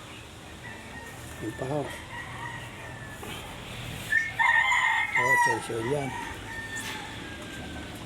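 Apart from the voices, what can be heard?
chickens clucking and a rooster crowing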